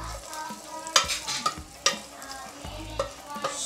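Garlic sautéing in a pan gives a soft, steady sizzle close by. Sharp clinks and scrapes of stirring break in at irregular intervals.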